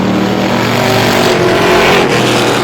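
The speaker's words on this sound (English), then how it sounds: "Keith Smalley in car 420 doing it the hard way around the Star Speedway, goes to the outside groove" Vintage race car engines at Star Speedway roar loudly and continuously at high revs, a dense, close, unbroken wall of motor noise.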